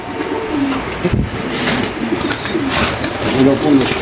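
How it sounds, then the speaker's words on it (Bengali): Pigeons at a pigeon farm give soft, repeated throaty coos close by, with some chirps and a brief rustle, under the murmur of nearby talk. "মাসাল্লাহ খুব সুন্দর এই কবুতরগুলো"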